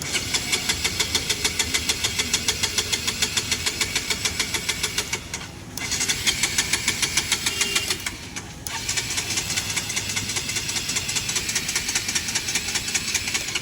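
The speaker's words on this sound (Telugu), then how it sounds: "బ్యాటరీ రీఛార్జ్ అయినా సరే బండి స్టార్ట్ అవ్వడం లేదు" A Bajaj Pulsar NS200 motorcycle that will not start even with a recharged battery cranks over and over in fast rhythmic bursts, loud and close, pausing briefly twice without the engine ever catching.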